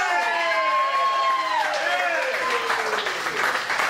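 A talk-show audience applauds a performer: a steady wash of clapping that runs the full length at a close, even loudness, with sustained musical tones sliding through the start.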